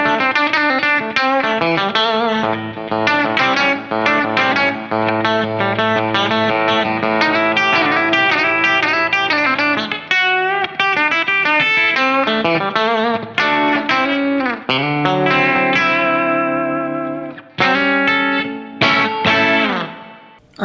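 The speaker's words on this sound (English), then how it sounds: "if you kind of pick real close to the bridge, you can get a kind of twangy, compressed, pseudo-telly thing going on" Rivolta Combinata Junior electric guitar picked close to the bridge for a twangy, compressed tone, continuous loud single-note and chord phrases with effects, no talk.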